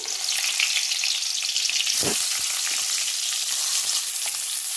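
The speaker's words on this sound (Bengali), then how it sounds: "তেলটা গরম হয়ে গেছে, এবার বেগুনগুলো আমি দিয়ে দিচ্ছি" Eggplant pieces fry in hot mustard oil, a loud, dense crackling sizzle that stays close and even throughout, with a brief thud and burst of spitting partway through.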